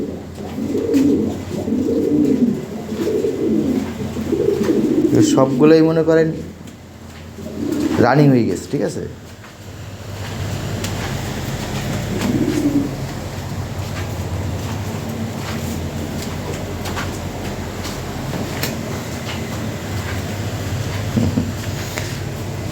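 European Lahori pigeons in a loft give low, throaty coos that repeat and overlap, mostly during the first ten seconds. Someone talks over them, and the rest of the clip is quieter with only faint background noise.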